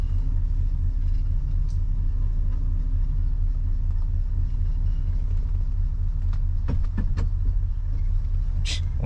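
A 1971 Ford LTD backing up, its engine giving a steady, low rumble that stays close and even throughout, with a brief higher clatter near the end.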